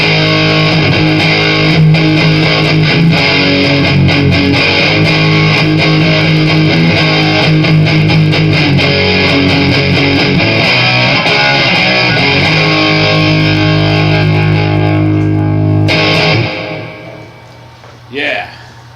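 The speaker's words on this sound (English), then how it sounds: "This is Sweet Jubilee, and this is modeled after the Jubilee series" Electric guitar played through a Marshall Code 25 amp on its Sweet Jubilee preset, modeled after the late-1980s Marshall Jubilee series: a thick, distorted, sustained rock tone, loud and continuous before fading out near the end.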